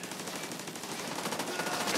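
Sustained, rapid automatic gunfire from a deployable turret in the video game The Division 2 rattles on without pause, dense and loud from start to finish, with no voices over it.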